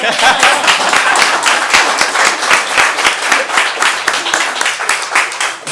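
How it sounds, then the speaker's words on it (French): A crowd claps steadily for several seconds, dense and even, with a few voices faintly under the applause. "On applaudit."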